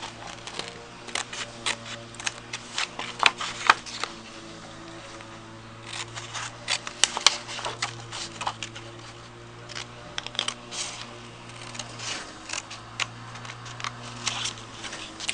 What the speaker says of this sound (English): And cut out that little ticket shape.